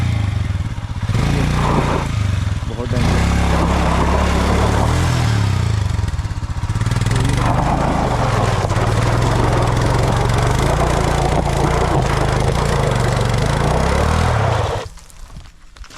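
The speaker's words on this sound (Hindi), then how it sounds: "ये चढ़ाई में बाइक ले जा रहे हैं" A motorcycle engine labours hard and loud as the bike climbs a steep, dusty, slippery mountain track in Uttarakhand, its low revving drone steady until it cuts off near the end, with a brief voice speaking over it.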